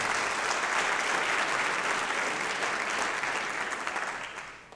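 Sustained applause from an audience at a Folsom Lake College event honoring Governor Newsom and the legislature, steady and dense throughout before tapering slightly at the end.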